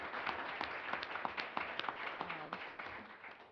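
Claps for an event organiser at a civil rights law tribute, a short run of quiet, uneven hand claps from a small group at moderate distance, with a faint voice murmuring near the end.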